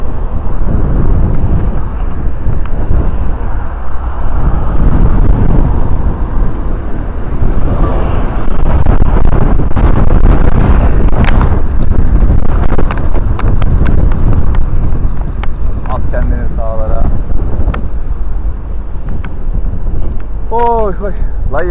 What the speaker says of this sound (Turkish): Çok rüzgarlı. Rüzgar bizi hızımızı bayağı bir yavaşlatıyor